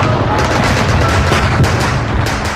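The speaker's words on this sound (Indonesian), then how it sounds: "Mendengar adanya tembakan dari arah perbukitan, Kiai Haji Idam Khalid pun tiarap." Dense, continuous gunfire from hills crackling throughout, with rapid overlapping shots and distant booms blending into a loud, sustained barrage.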